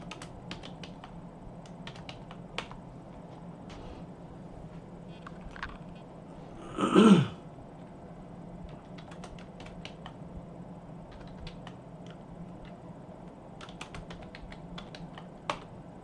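Code being typed on a computer keyboard, scattered clicking keystrokes in short bursts throughout, with one louder brief thump near the middle and no talking.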